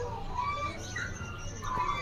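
Small caged songbirds chirp in short high calls at a bird kiosk in a market, with someone talking over them and a low background hum.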